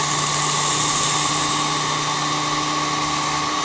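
A Work Sharp Ken Onion knife sharpener with its grinder attachment running, a loud steady motor whine with a bright high-pitched hum that holds constant throughout.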